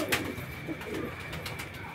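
Original-breed pigeons, some in moult, coo quietly nearby at a Beldanga pigeon market, a soft rolling murmur with a brief sharper call near the start.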